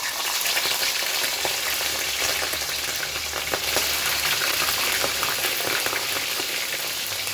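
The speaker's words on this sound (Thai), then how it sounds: "กระทะร้อนแล้วใส่ปลาทูเลยค่ะ" Mackerel sizzles and crackles in a hot pan of oil, a dense, steady frying hiss with small pops throughout, close and fairly loud.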